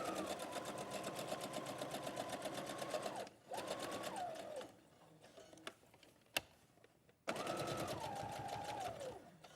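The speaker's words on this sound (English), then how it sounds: "So I'm stitching carefully across the straps, and then I'm pivoting and turning round and going down the other curved edge." A sewing machine stitches across bag straps in rapid bursts of needle chatter, stopping and restarting twice with quiet pauses and a sharp click between runs.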